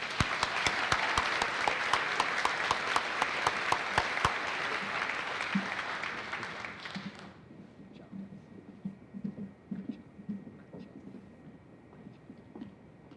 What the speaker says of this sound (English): One more round of applause, everyone.